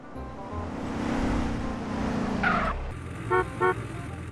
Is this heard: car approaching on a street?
yes